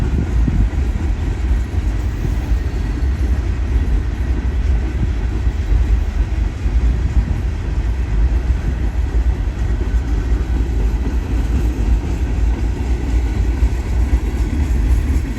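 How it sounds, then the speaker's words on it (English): A Union Pacific freight train passes on double track at Gibbon on the La Grande Subdivision, a loud, steady, low rumble of rolling cars and wheels that continues unbroken throughout, with no speech. "UP 3053 here will be meeting an eastbound stack train."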